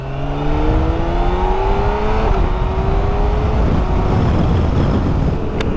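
BMW K1600 GT motorcycle with a flashed ECU accelerating hard in first gear, a loud rising engine drone buried under heavy wind roar, steady and close with no speech.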